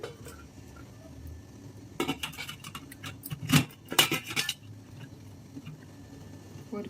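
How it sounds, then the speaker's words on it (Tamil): A lid is set onto a cooking pot while making tapioca puttu, with a cluster of close metallic clinks and rattles in the middle of an otherwise quiet kitchen. "இப்போ நம்ம இதை வந்து மூடி போட்டு"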